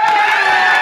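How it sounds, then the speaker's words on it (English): Soundboard applause and cheering from a podcast plays as a short, dense burst of crowd noise, loud and continuous with whoops mixed in. "Thank you, yeah, for the belated applause."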